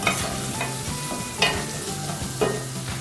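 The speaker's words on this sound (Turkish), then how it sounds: "karıştırıyorum. Baharatlar ve tuz birbirine karışsın." Minced meat with spices and salt being stirred in a pan for pasta with mince, sizzling steadily under three or four distinct scraping stirs of a utensil, no voices.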